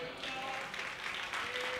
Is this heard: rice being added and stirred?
no